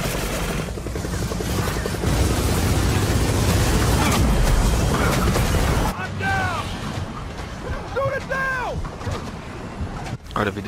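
Gears of War 4 video game helicopter, a loud continuous rotor roar with heavy artillery-like blasts and gunfire for several seconds, then softer game effects and talk.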